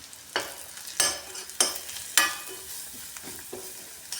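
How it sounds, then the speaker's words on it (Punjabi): Garlic and red chillies sizzle in hot ghee for a tempering for besan kadhi, with a steady frying hiss broken by four or five sharp scraping stirs of a spoon in the pan, close and clear. "ਘਿਓ ਵਿੱਚ ਚੰਗੀ ਤਰ੍ਹਾਂ ਭੁੰਨਾਂਗੇ"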